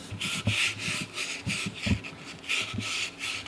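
Sandpaper rubbed by hand inside a boot tube during finishing, giving repeated close scratchy strokes in an uneven rhythm with a steady hiss between them and no talking.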